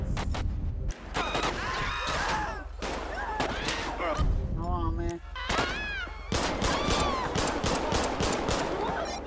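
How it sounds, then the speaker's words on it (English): Gunfire in GTA V with the LSPDFR police mod: dense, loud bursts of rapid shots crackle close by in several volleys with brief pauses, while voices shout over the shooting. "Shots fired!"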